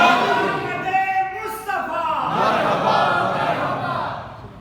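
A crowd at an Eid Milad un Nabi religious gathering chants slogans in response, a single raised voice leading before a broad wash of many voices answers loudly and then fades.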